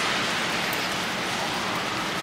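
Steady rain pours down outside on a wet New York City day, a dense, even hiss of drops on surfaces that fills the whole stretch without a break.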